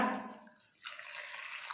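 Water is poured from a small cup into a mixer jar holding grated coconut, a brief, faint trickling splash heard close up and alone.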